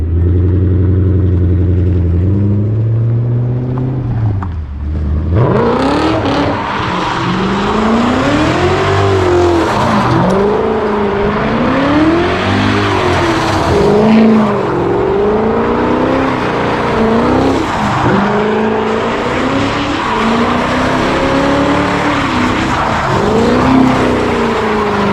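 BMW E39 M5 doing donuts in Mexico, its engine revving hard with rising and falling pitch sweeps while tires squeal continuously, loud and close throughout after a brief idle at the start.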